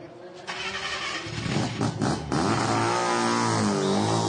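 Mazda RX-7 race car pulling away from a scheduled pit stop during a 12-hour endurance race at Hampton Downs, its engine starting and revving up loudly, with a commentator talking over it.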